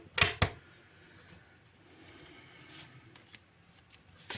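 A quick burst of card shuffling up close, two sharp riffles at the start, then quiet rustling and faint handling noises.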